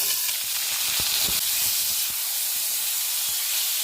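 Sweet potato pieces hiss and sizzle in hot oil tempered with dried red chilli and mustard seeds, cooking for a sour raw-mango chutney: a close, steady fry with scattered small pops and crackles, and no talking.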